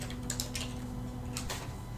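A computer keyboard clicks in two short bursts of keystrokes over a steady low electrical hum, the typing faint and close.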